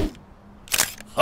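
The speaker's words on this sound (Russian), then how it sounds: "Ладно, давайте фотоаппарат." A camera shutter clicks once in a children's cartoon, a bright crisp snap standing alone after a quiet moment, followed by the start of another sharp burst.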